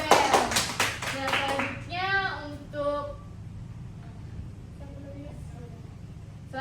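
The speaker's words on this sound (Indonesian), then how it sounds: "Tepuk tangan untuk Abel." Children clap their hands in an elementary classroom for a classmate, a short burst of sharp claps in the opening second or two, followed by a voice and a teacher talking.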